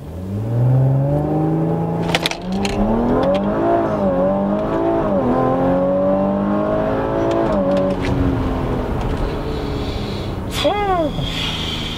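An Audi RS5 accelerates hard from a stop, its engine revving up loudly through rising gear pulls close by. Voices speak over the steady roar, and a brief whine-like sweep comes near the end.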